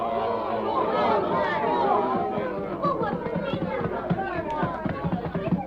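Townspeople crowd together in a radio drama scene, and many voices murmur and chatter at once in a steady, fairly loud babble. Footsteps and shuffling move through the hubbub.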